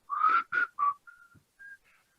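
A whistled melody from a song: three strong wavering notes followed by a few thinner, fainter tones, heard alone with no talking.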